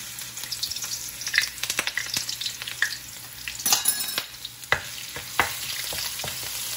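Garlic frying in hot oil for a ramen soup with shrimp, a steady sizzle broken by sharp crackles and pops as the pan is stirred, close and fairly loud with no talking.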